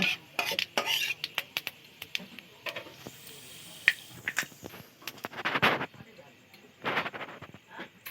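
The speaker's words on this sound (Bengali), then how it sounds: "দুটো তেজপাতা দিলাম একটু পাঁচ ফোড়ন দিলাম দিয়ে এটা একটু ভালো একটু হালকা ভেজে নেব" Bay leaves and panch phoron fry lightly in hot oil for a shrimp and cucumber dish, with sharp irregular pops and crackles close up, mixed with utensil clatter in bursts.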